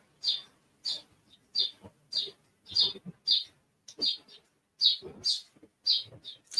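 Several crows gather near scattered bird seed outdoors and give a long run of harsh caws, some overlapping, in an uneven rhythm, fairly close and loud.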